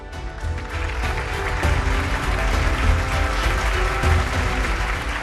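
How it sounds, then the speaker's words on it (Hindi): Applause from a studio audience on a television show, a loud, dense, continuous clapping that holds steady for several seconds with no voices over it. "तालियां।"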